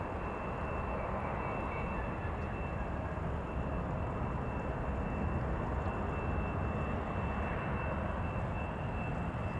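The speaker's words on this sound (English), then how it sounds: "you can actually feel the pressure from the sound, particularly if the airplane has just passed" A Delta Airbus A330-300 airliner passing at Amsterdam Schiphol's Polderbaan, a steady, loud, broadband engine roar that holds throughout with no talking.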